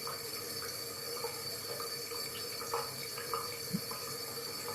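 A tap runs steadily into a sink while hands are rinsed, a dense close hiss of water with small splashes and drips breaking through now and then.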